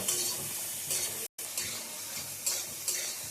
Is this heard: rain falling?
no